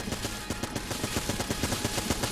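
Constant rapid gunfire from Enter the Gungeon during a boss fight, dense and even over a busy game soundtrack, with no pauses and no talking.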